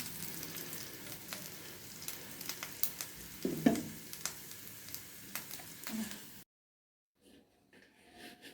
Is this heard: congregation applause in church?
no